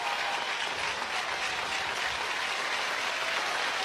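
Crowd at a Big 12 title game softball stadium, Oklahoma versus Texas, cheering loudly as fans rise: a steady, dense roar of voices and clapping that fills the whole stretch without a break.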